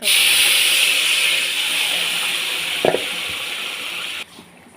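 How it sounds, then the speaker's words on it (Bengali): Bottle gourd curry poured into a pan of hot oil tempered with panch phoron, a loud steady hiss and sizzle that fades gradually, a brief clatter partway through, then drops off abruptly. "পাঁচফোড়নটা হয়ে গেলে এই যে লাউ তরকারিটা আমি এর মধ্যে ঢেলে দেবো"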